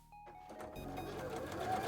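A sewing machine stitches thin fabric gauntlets, its motor whirring in a steady, close mechanical buzz that starts softly and builds into continuous running.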